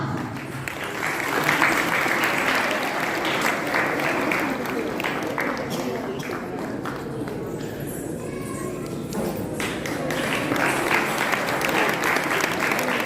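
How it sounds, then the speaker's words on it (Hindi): Sustained applause from a festival audience at a Govardhan Puja celebration after a children's dance performance, dense and steady for the whole stretch, with crowd murmur and voices mixed underneath. "तालियों की आवाज रुकनी नहीं चाहिए।"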